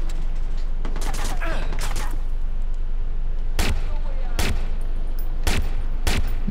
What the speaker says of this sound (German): Ach, die schießen immer noch auf mich?